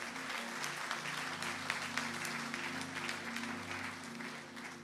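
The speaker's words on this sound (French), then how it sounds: "Est-ce qu'on peut applaudir la parole du Seigneur ce matin?" A church congregation claps steadily during a French-language Sunday morning service, a dense, even wash of applause with sustained organ or keyboard chords underneath and no voices over it.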